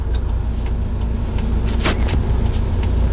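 A car engine accelerates steadily during a manual-transmission driving test, the close, continuous drone filling the cabin with no talk over it.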